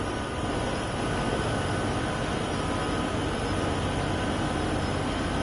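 An SD40-2 diesel locomotive in Train Sim World 6 on a 1% grade, hauling one hopper and three boxcars, a steady loud engine rumble with a broad constant roar and no break.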